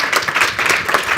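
At the close of a privacy summit session, a conference audience applauds two speakers with a loud, dense round of clapping that holds fairly even for just over a second.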